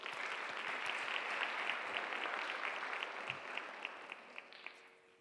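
Audience at a Bharatanatyam arangetram claps for the vocalist, a dense, fairly soft round of applause that gradually thins out toward the end, with individual claps becoming distinct.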